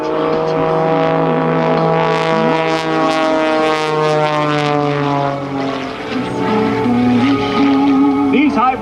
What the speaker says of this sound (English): These hybrid monoplane aircraft that are the type that Patty are flying